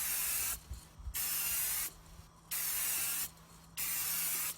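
Three bursts of tire shine cleaner sprayed onto a tire, each a loud, close hiss lasting about a second, separated by short quiet gaps.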